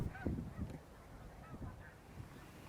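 Geese honk in a few faint, scattered calls at a distance over a low background, no talking.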